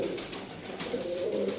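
Tumbler pigeons kept for acrobatic flying, cooing softly and steadily in a short, low, close burst with no talk.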